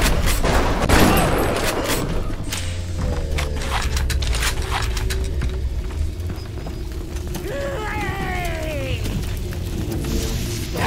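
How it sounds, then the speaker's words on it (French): A pump shotgun fires over and over in BioShock, loud booming blasts with mechanical clacks between them, all within a dense, busy game soundscape. "tu te sers vraiment bien de ton gros fusil à pompe, Captain"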